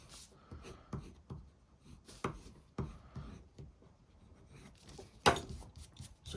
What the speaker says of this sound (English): I'm just going to go and use the bone folder here just to push down some of the edges